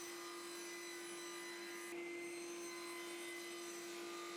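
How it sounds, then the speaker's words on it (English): A table saw cuts wooden parts to size, giving a steady, continuous whirring hum with a sustained tonal whine throughout and no voices. "we have to cut all the required parts to size with the table saw"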